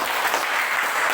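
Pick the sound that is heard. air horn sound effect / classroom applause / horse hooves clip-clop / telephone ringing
classroom applause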